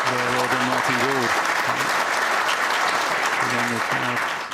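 A snooker crowd at the 2014 World Championship applauds at frame ball, steady sustained clapping throughout, with a commentator's voice briefly over the top at the start and end.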